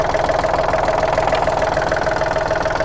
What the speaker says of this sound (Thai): ไปเปิดเเครื่องยนต์นะครับ